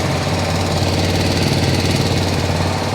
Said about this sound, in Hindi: अब देखिए आप इंजन स्टार्ट हो गया।